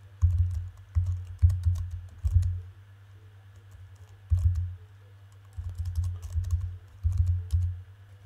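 Someone types a search on a computer keyboard: close, steady bursts of soft key clicks in quick runs, separated by short pauses, with no talking.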